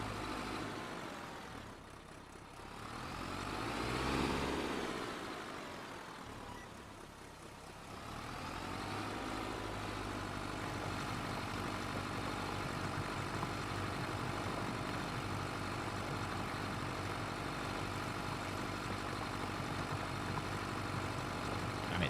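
A tractor engine in Farming Simulator 25 drones steadily for a long stretch, a low continuous rumble that swells and dips early as it turns, then settles into an even, unbroken hum with no voices.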